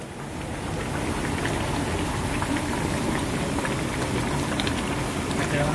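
Maple sap boiling hard in a stainless steel 2x8 evaporator pan, a steady dense bubbling roar that rises in the first second and then holds constant, close and loud.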